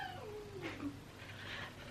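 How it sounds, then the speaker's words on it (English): A domestic cat meows in two drawn-out, wavering calls, close and moderately loud over a steady low room hum, with no talking. "I'm not sure what's happening with my cat"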